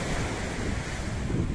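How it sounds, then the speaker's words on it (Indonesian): Ocean surf crashing on a beach with steady wind gusting across the microphone, a loud, continuous broadband roar with no voices. "deburan ombak dan desirian angin"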